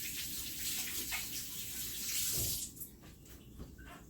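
Hands are washed under a running kitchen tap while making bread, a steady close splash of water that shifts and then eases off near the end, with no talking.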